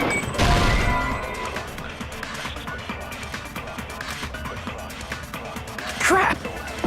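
A window shatters in the video game Danganronpa 2: Goodbye Despair, a loud glass crash near the start, followed by a brief second impact later, with speech throughout.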